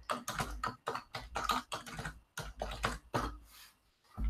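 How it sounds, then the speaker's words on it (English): Rapid, uneven keystrokes on a computer keyboard, close and fairly loud, running in quick bursts with brief pauses and no talk over them. "I did a horrible job typing that"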